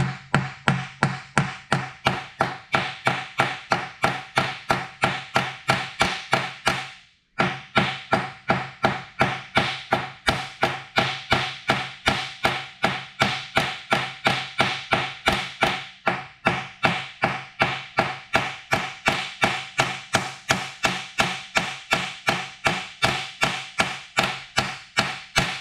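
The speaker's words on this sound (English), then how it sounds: "Let me get a ball peen hammer." A ball peen hammer strikes the tip of a chainsaw bar in a steady, rapid series of sharp metallic taps, close and loud, with one brief pause early on before the even rhythm resumes.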